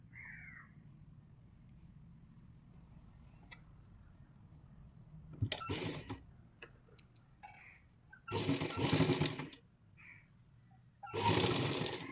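A sewing machine stitches a nighty seam from bottom to top in three short whirring runs, loud and close, separated by quiet pauses with small ticks and handling sounds.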